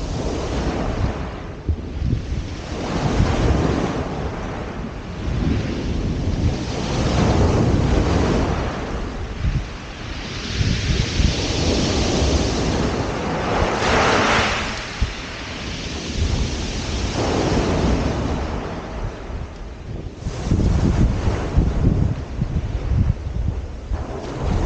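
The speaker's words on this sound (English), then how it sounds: "Waves are getting larger" Waves break and surge onto the beach at Felixstowe, loud and continuous with heavy wind buffeting the microphone throughout, and no voices.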